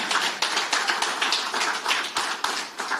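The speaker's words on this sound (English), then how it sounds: "Clap for me, please." An audience at a funeral insurance relaunch event in Zambia claps in a steady rhythmic pattern, loud and close, with no talk over it.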